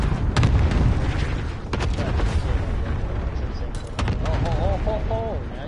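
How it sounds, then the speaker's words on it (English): Cluster strike explosions in a Call of Duty match on PS5, several sharp blasts and booms scattered through a dense, loud mix of game noise, with voices talking over it. "Cluster strike away."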